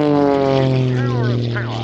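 A propeller plane flies aerobatics at the Cosford Airshow in 2024, its engine droning loud and steady with a shifting pitch as it pulls into a vertical climb, heard under a commentator's voice.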